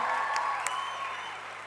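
An audience at a Sunday afternoon event applauds the team in a hall. The clapping is steady and moderately loud, with some ringing tones underneath, and it slowly fades.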